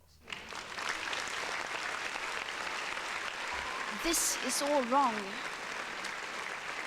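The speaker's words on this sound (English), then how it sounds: "Damn. Round of applause." A canned applause sound effect on a podcast episode spreads as a steady, fairly quiet wash of clapping while a voice talks over it near the end.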